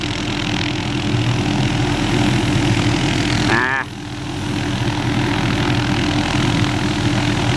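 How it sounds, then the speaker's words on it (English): A Hughes 500D helicopter on a tree-trimming job throttles up for takeoff, its engine and rotor making a loud, steady, close roar that dips briefly partway through before building again. "Hughes 500D out here cutting trees for Georgia Power."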